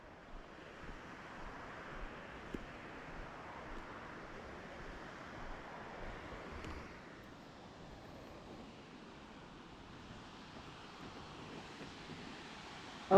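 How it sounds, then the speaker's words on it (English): Water flowing in a park on a cold, gloomy day in Tennessee, a steady soft rushing wash heard at some distance under light wind, with no voices. "Ooh, I can hear the water."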